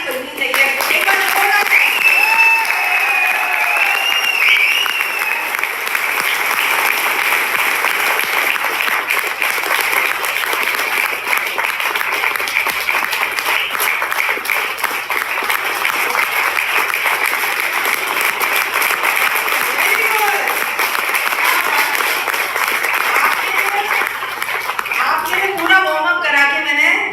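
Audience at a seminar in India applauding, with loud sustained clapping from a large crowd that carries on for nearly half a minute with barely a break.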